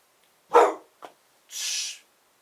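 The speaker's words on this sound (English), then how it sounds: "And there's my dog interrupting me, probably wanting me to wrap this up." A pet dog barks indoors at home: two quick barks in succession, then a sharper, higher-pitched yelp, all fairly close with no talking.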